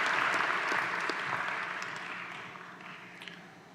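Sustained applause from a large crowd at a graduate programs graduation recognition ceremony, honoring MBA awardees; dense steady clapping that gradually thins and fades toward the end.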